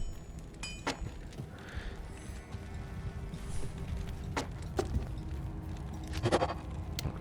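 Cow moos and bleats from the secret cow level in Diablo II: Resurrected, several calls scattered over steady game ambience and background music, with brief sharp hits between them.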